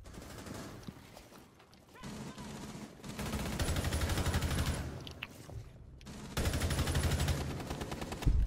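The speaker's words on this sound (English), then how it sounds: "Start shooting." Gunfire in Rainbow Six Siege, several loud automatic bursts separated by quieter pauses, close and punchy with brief lulls between volleys.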